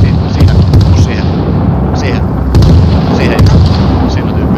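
Bradley cannon in the military game Arma Reforger, loud repeated booming shots over a dense low rumble, with a few sharper bursts spread across the clip and talk in the background.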